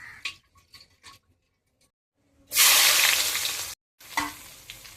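A loud burst of sizzling as chicken hits hot oil, hissing strongly for over a second, after some quiet clinks; sizzling resumes after a brief pause.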